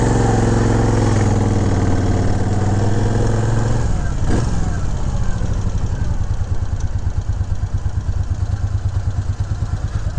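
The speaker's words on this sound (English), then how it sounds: "Beautiful running bike, folks." A 2000 Moto Guzzi Jackal motorcycle engine runs steadily nearby, a loud throbbing rumble that shifts into an even, pulsing idle.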